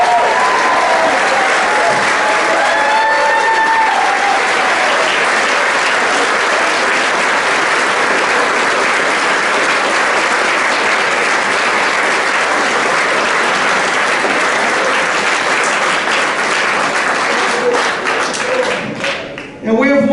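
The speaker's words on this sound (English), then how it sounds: "Ladies and gentlemen, give a warm round of applause to Mr." Loud sustained applause at a football banquet as Travis O'Brien is called up, a thick wall of clapping lasting about twenty seconds with some voices mixed in, dropping off abruptly at the end.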